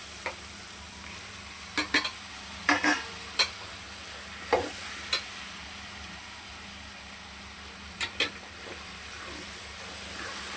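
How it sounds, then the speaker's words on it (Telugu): Tomatoes tossed into a hot pan for a broad bean curry sizzle with a steady low hiss, broken by a few sharp scrapes and clinks of stirring scattered throughout. "ఇప్పుడు టమాటాలు వేసుకుందాం."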